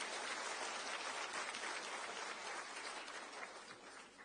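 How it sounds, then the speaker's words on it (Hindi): A crowd at a Delhi political rally applauds, a faint, distant wash of many hands clapping that holds steady for a few seconds, with no voices standing out. "अरे वाह, आप सब करेंगे तो एक बार आप सबके लिए जोरदार तालियां"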